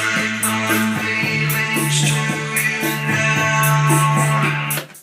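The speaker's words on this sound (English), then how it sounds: "the vocal to start with was just going to be a vocoder singing, going through a vocoder with just one note" Vocoded vocal singing a single held note, a buzzy synthetic voice with steady harmonic tone and rhythmic syllable pulses over a sustained pitch, loud and continuous before fading out at the end.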